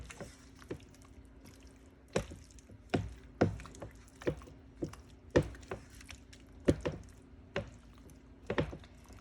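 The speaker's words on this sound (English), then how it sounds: "I'm adding my drained rigatoni. And I'm gonna go ahead and start to stir this together." Drained rigatoni pasta is stirred into a sauce, producing a series of close, wet squishes and soft clacks in an uneven rhythm, each one distinct against a quiet background.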